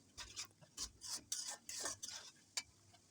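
Loitta (Bombay duck) fish is stirred in a pan until it breaks into fine crumbs, making close, brisk scraping strokes in an uneven rhythm with brief pauses and no talking.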